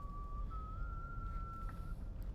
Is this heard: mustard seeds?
no